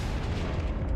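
Confringo blasting spell explosion in Hogwarts Legacy, a loud, dense, rumbling blast that fills the full second with deep low-end boom and broad crackling noise, close and sustained without a clear break.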